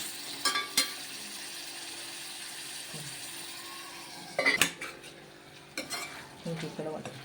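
Chicken being stirred in hot oil in a pan for a chicken curry with tender tamarind leaves, with soft sizzling under scattered scraping and clanking strokes of a utensil, up close and with no talking.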